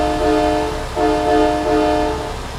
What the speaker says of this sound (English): That's the only part of the song that's really easy to play on the horn.